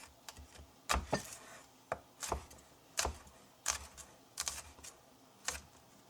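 A sharp cleaver striking chicken on a cutting board, a series of irregular crisp chops, close and fairly quiet, with short pauses between strikes.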